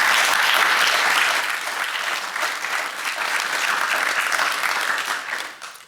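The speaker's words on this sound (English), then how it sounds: "Let's please give the previous speakers a round of applause." An audience at a graduation ceremony gives sustained applause for the previous speakers, a dense, even wash of many hands clapping that holds steady for several seconds before tapering off.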